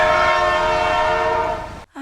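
An economy-class passenger train rolls along with a loud, steady horn blast sounding nearly continuously, then cutting off abruptly just before the end, followed by a brief resumption of rumble.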